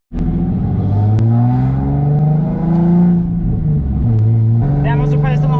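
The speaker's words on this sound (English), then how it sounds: "Go for a little drive around the block." A turbocharged Nissan 350Z with a manual gearbox pulls away and revs, its engine note rising and falling loud and close, with brief turbo whooshes near the end.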